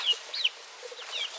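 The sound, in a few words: mother hen clucking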